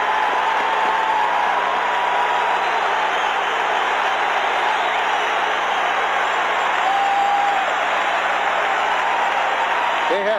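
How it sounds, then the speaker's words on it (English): A hockey arena crowd roars in sustained uproar during an NHL playoff game between the Flyers and Oilers, a dense, unbroken wall of noise with a commentator talking over it. "with the crowd in an uproar"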